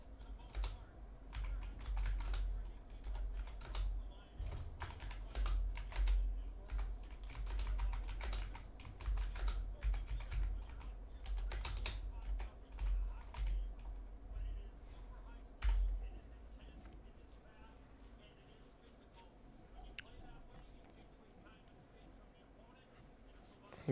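Rapid typing on a computer keyboard, dense bursts of clicking keystrokes close up, with speech over it in places.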